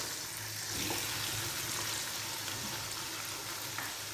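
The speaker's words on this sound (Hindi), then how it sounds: "यहाँ पर हम इसको 5 मिनट के लिए भूनेंगे" Steady, dense sizzling of beef frying with garlic in a hot pot, a constant crackle with no talking.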